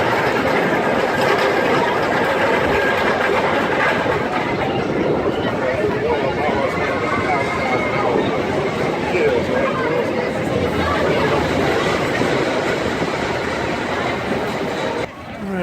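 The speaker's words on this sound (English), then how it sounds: "I just got off the Roadrunner Express, which is the park's mine train coaster" A mine train roller coaster at a Texas theme park rumbles and clatters along its track nearby, a steady rolling roar lasting throughout beneath a crowd's chatter and voices.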